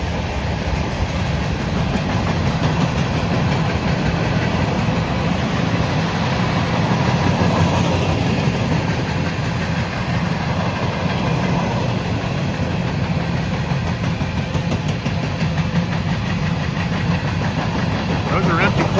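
A long freight train of a little over 500 axles, with empty coil cars, rolls past on the track at close range, a continuous loud rumble and clatter of wheels, while someone speaks over it.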